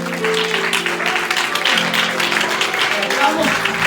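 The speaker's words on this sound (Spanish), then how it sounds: "Es un aplauso al Señor" Steady applause from a church congregation praising the Lord during a service, a continuous wash of clapping with a voice speaking over it.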